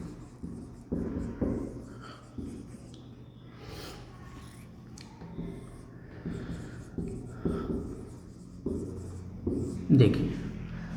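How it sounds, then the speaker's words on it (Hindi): Marker or chalk scratching out a trigonometry question on a board during an inverse trigonometric functions lecture, in repeated short strokes at close range with breaks between them and a few soft taps. "एक और क्वेश्चन लिखते हैं"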